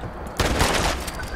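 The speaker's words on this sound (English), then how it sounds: "Shotgun." A shotgun fires in Fallout 76 with a sudden loud close blast that rolls into a dense, crackling burst of gunfire and echo lasting about a second, with no speech.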